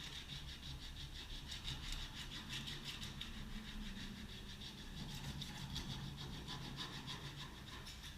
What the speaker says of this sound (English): go over it with some 40 grit just to break down the high spots